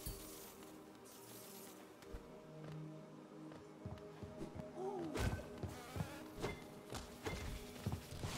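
Bees buzz in the game Hollow Knight, a faint insect drone under game music, joined later by sharper clicking hits and swooping effects that grow louder toward the end.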